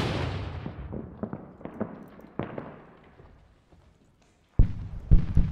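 A grenade explodes in the night-time combat of the video game Six Days in Fallujah: deep booming blasts with rumbling decay, followed after a short lull by further sharp, loud bursts at close range.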